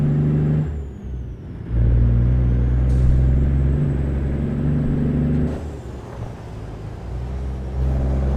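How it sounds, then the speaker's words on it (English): Old truck springs squeak in a thin, high whine over the loud, steady engine rumble of a heavy truck in American Truck Simulator, with the squeal rising and falling across the clip. "Hear it squeaking. Those old springs."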